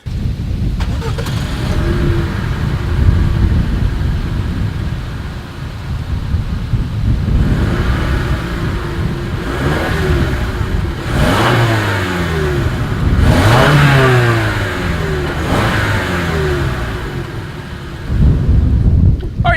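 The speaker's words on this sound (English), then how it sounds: "As always, here is that exhaust clip." A 2020 Toyota RAV4 engine revs repeatedly through its dual exhaust, several rising and falling roars close by, with a deep rumble between blips and no talking.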